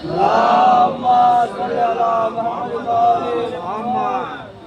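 A crowd at a Shaban religious mahfil chants salawat in unison, several swelling rhythmic waves of massed voices, loud and close.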